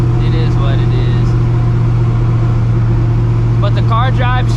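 A cammed, procharged New Edge Mustang GT rumbles on the road with a steady, loud, even engine drone, and a brief voice-like sound rises near the end.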